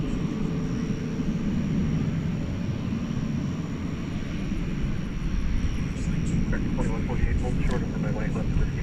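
A Cathay Pacific jet airliner passes at night at DFW Airport, a loud, steady engine roar with a low rumble that swells slightly as it goes by, with no one talking over it.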